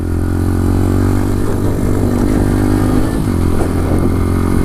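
A Bullit Hero 125 motorcycle ridden slowly off-road, its engine loud and close with a steady mid-pitched thrum that shifts pitch slightly as the throttle changes, with no talking.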